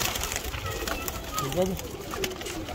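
Pigeons kept by a fancier coo in soft, rolling calls near the middle, with a voice briefly present over a continuous outdoor background.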